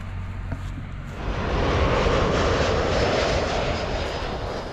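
Airplane passing near the runway perimeter fence at Manchester Airport, a loud, continuous engine roar that swells after the first second and holds steady, close to the listener.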